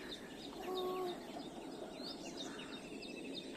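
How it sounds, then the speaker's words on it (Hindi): Birds in trees beside farm fields in rural India give faint, scattered chirps and a few thin whistles over a soft insect hum, distant and unobtrusive. "इन वृक्षों में जब सुंदर सुंदर चिड़ियाँ, पक्षियाँ उड़ती हुई, कुछ कहती हुई सुनाई देती हैं"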